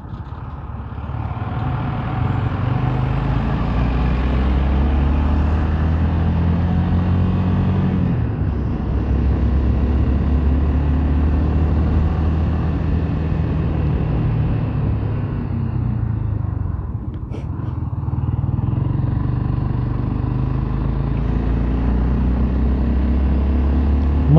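Motorcycle riding through a small village on the way to Triunfo, Pernambuco, overtaking a truck at a speed bump; a steady, loud low engine and road rumble runs throughout, briefly dipping midway before resuming.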